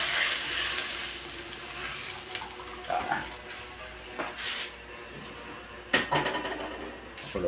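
Coconut milk simmers with tuna and tomato in a pan, a steady bubbling sizzle with occasional clinks and scrapes of a utensil against the pan.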